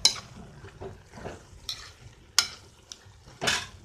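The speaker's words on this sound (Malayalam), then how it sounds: "എടക്ക് നമ്മൾ പീച്ചിങ്ങ ഒന്ന് ഇളക്കി കൊടുക്കണം" Ridge gourd and prawns being stirred in a pan for thoran: intermittent sharp scrapes and clinks of a spoon against metal over a faint sizzle, spaced irregularly at close range.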